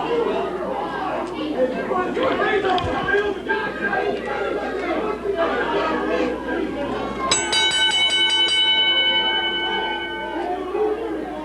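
A ringside bell at a 1998 independent wrestling show sounds with a bright, ringing clang that decays slowly, rising over a noisy crowd that chatters and shouts throughout.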